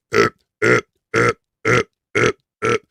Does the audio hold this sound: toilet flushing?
no